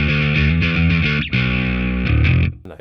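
A bass guitar through a tube screamer distortion on a Line 6 HX Stomp plays sustained, gritty driven notes in a short phrase, loud and alone, then cuts off abruptly.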